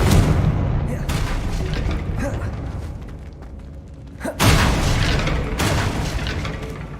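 Confringo blasting-curse explosions in the Hogwarts Legacy video game: two loud, booming blasts, the second near the midpoint, each trailing into a dense rumbling wash that fills the whole stretch.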